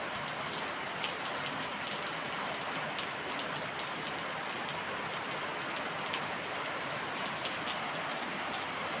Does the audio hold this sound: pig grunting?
no